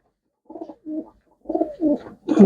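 Pigeons coo nearby in soft, throaty bursts, a few short rolling calls separated by brief pauses, at a pigeon sale.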